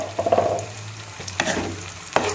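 A ground mixture of tomato, coriander leaves and ginger frying in an oil tempering for a gojju, with close sizzling and a few sharp clatters of a spoon against the pan.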